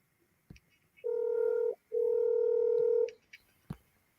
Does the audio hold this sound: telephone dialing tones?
yes